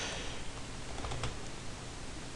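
Computer keyboard keys tapped in a quick run while entering a bind command for Counter-Strike: Global Offensive, soft close clicks over a steady room hiss with no talking.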